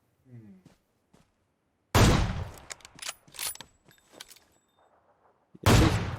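Gunfire in an online shooting video game: two loud, sharp bursts, one near the start and one at the end, with scattered faint clicks and thuds between them.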